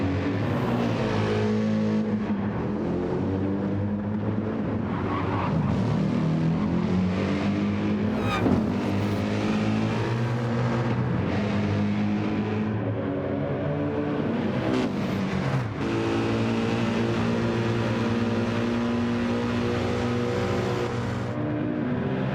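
Several race car engines, including an AMG Mercedes, a BMW M6 and a Ford Mustang, roar closely together around the Mount Panorama Bathurst circuit in Gran Turismo 7, with steady revving, gear shifts and droning harmonics throughout.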